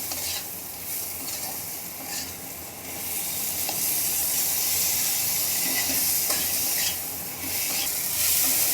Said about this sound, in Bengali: সমস্ত মশলাগুলো খুব ভালোভাবে নেড়ে চেড়ে কষিয়ে নেব।